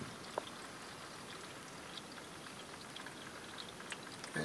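Transmission fluid trickles steadily from a partly loosened pan on a Dodge Ram, a continuous soft splashing pour with no talk over it.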